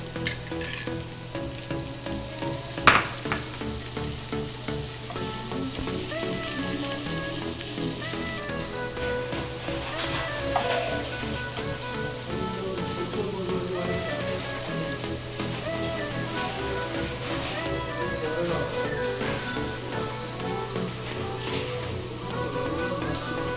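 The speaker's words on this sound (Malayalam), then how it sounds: "എണ്ണയിലിട്ട് വറുത്തെടുക്കാം." Marinated paneer frying in hot oil gives a steady, close crackling sizzle that runs throughout, with a few sharper pops and no talking.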